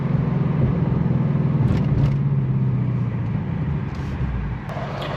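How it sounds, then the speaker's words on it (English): A Ford Mustang Dark Horse V8 accelerates onto a highway with a steady, loud interior engine drone and road rumble, its pitch rising slightly before leveling off, and no voices heard. "you guys will definitely hear some nice V8 sounds"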